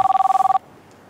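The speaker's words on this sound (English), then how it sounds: "My phone." A telephone rings with a fast, even trill of about ten rapid pulses, loud and close, then cuts off abruptly into quiet room tone.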